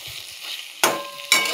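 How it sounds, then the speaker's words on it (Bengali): Onion, potato and eggplant fry in a pan with a soft, steady sizzle, broken by two sharp bursts of louder crackling as the pieces are stirred. "এবার একটু আলু বেগুনটা একটুখানি ভাজা ভাজা মতো হবে"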